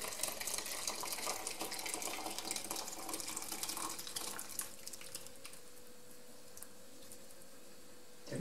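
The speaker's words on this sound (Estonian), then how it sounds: "Ja nüüd ta nõrgub siit ära, koti seest, sellest vadak eraldub" Whey drains from a cloth bag of homemade cottage cheese. A steady, close trickle of liquid runs for about half the time, then thins to a quieter, sparse dribble.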